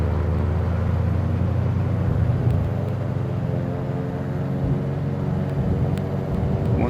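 The CT210 tail-dragger plane's engine in a flight game, a steady loud droning rumble with layered tones holding on after the throttle eases, continuous and close, no voices.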